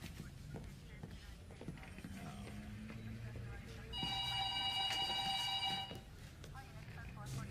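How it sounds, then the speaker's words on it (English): A sergeant's telephone rings in a short electronic burst lasting about two seconds, loud and clear. Muffled voices and movement are heard before and after it. "Hey, Sarge, that's your phone."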